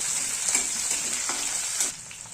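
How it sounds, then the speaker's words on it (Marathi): Mustard seeds, cumin, red chili and garlic-ginger paste hit hot oil in a pan, giving a steady, bright hiss with small pops and a couple of soft stirring scrapes, close and continuous. "तेल गरम झालेले टाकते राई थोडं जिरं लसण अद्रक पेस्ट"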